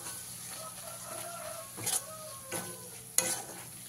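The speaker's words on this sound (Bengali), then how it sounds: "তো এইভাবে সমস্ত মশলাটাকে খুব ভালো করে ভেজে নিতে হবে" Spices frying in a pan for a Bengali potol korma, a faint steady sizzle with three short scraping stirs of a spatula, no voices.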